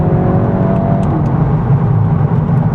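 A 2026 VW Golf 8.5 GTI downshifts into second gear and accelerates, its engine note loud and close inside the cabin, with a rising whir over a low throbbing rumble.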